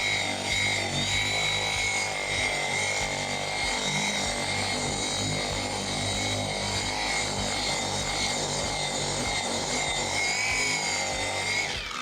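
A polisher with an orange pad compounds scratches out of car paint, giving a constant, loud, high-pitched motor whine with a steady buzzing drone and no pauses.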